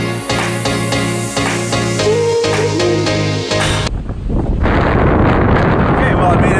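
Music plays for a few seconds, then cuts to heavy wind buffeting the microphone, a loud, rough roar that continues to the end.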